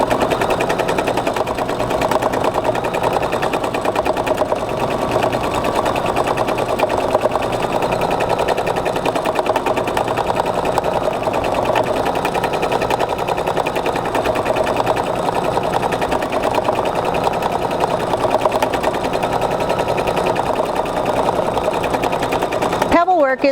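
A sewing machine stitches steadily through free-motion quilting, laying locking stitches and then pebble-pattern quilting with variegated thread; the rapid mechanical chatter runs loud and continuous throughout, with speech present.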